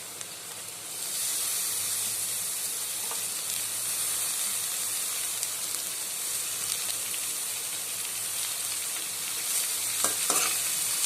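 Sliced carrot, beans and newly added cabbage stir-frying in a hot pan, a loud continuous hiss and sizzle rising after the first second, with a few faint utensil scrapes near the end.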